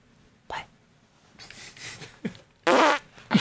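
A mouth-made imitation of farting, several short bursts with a loud, sputtering raspberry near the end, close up, with breathy pauses between.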